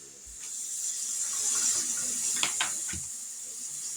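Hot water runs steadily from a kitchen tap while making homemade pizza dough, a constant hiss with a few brief clinks and splashes near the end.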